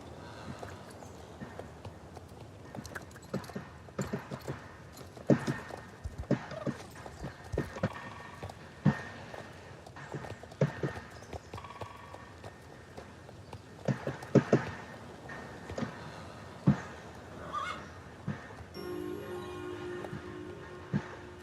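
Horse hooves clip-clop steadily in the Star Stable video game, a continuous stream of hoofbeats with occasional louder thuds and a brief neigh near the end, over faint ambient game sound.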